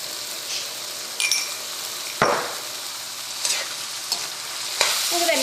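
Beans and frozen green peas sizzle in a pan for vegetable pulao while a spoon stirs them, a steady close frying hiss broken by several scraping, clinking strokes against the pan.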